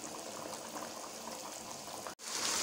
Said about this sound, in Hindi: ये देखें बॉयल्स बबल्स आने लगे हैं।